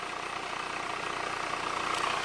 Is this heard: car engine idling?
yes